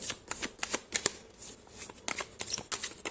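A deck of tarot cards is shuffled and handled close up, producing a quick run of crisp riffling flicks and soft slaps, loud and uneven in rhythm, with no talking.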